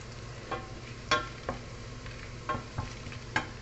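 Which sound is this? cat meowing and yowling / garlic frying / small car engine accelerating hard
garlic frying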